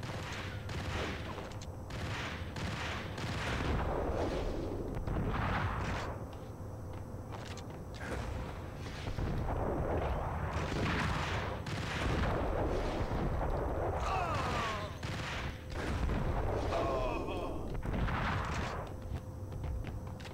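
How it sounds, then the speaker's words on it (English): Bomb blasts and gunfire in the Max Payne shooter game, repeated heavy booms and bursts of shots rolling through a long chaotic firefight, with a faint footstep-like shuffle among the blasts. "Who is throwing bombs up in here?"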